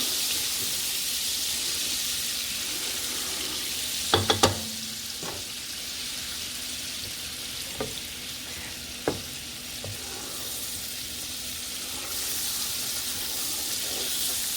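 Butter melts and sizzles in a pan with pearl onions and fresh garlic for garlic butter chicken, giving a dense, even hiss throughout, broken by a sharp metallic clatter and a few light knocks.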